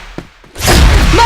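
Flash bomb going off in a close-combat shooter video game: a short thump, then a loud, broad burst that swells and hangs as a sustained roar.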